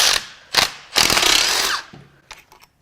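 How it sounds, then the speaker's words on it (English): Short bursts from a power tool whir and rattle as bolts are zipped out of a failed Subaru WRX FA20DIT engine, three quick pulses separated by pauses, close and loud. "we're just going to start zipping some bolts out"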